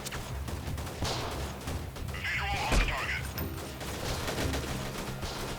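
Type 79 sniper rifle shots in the video game Freeman Guerrilla Warfare, booming reports amid a noisy battle backdrop, with one heavier blast near the middle and someone talking over the action.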